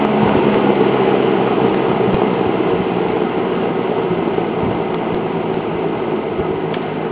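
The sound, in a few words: vintage Berns Air King 12-inch box fan running on low speed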